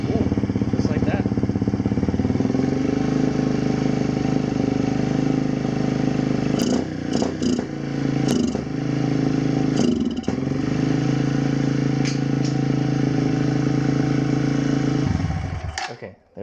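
A Kawasaki KLX140 dirt bike engine running at a high idle just after its first startup on a newly installed carburetor and fuel system, a loud, steady, close drone with brief dips before cutting off at the end, and someone talking over it.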